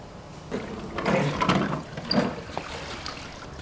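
Water trickles and splashes out of an Aiper Seagull robotic pool cleaner lifted from a pool, running in a few irregular pours and drips at close range with no voices.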